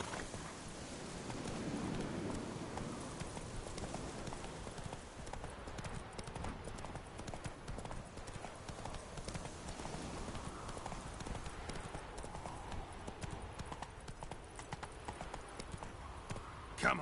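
Roach the horse gallops in a video game, a steady clip-clop of hooves running continuously and fairly loud throughout, with a faint voice murmuring at times beneath the hoofbeats.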